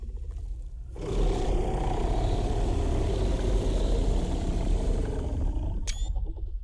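A dinosaur in the survival game The Isle lets out a loud, sustained, rumbling roar lasting several seconds, beginning abruptly after a brief quiet lead-in and ending with a short sharp cry.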